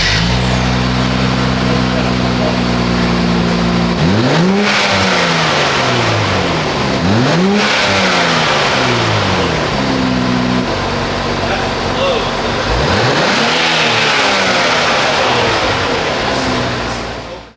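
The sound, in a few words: sports car aftermarket exhaust revving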